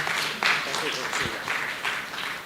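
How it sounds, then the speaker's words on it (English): Conference audience clapping at a forum's closing remarks, a steady moderate patter of hands with a voice speaking over it. "So let us give Professor warmest applause"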